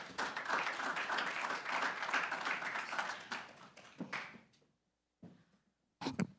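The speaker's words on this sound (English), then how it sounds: "let's give Jelani another round of applause" An audience applauds, dense clapping for about four seconds that thins into a few scattered claps and fades, followed by a couple of brief isolated bursts after a pause.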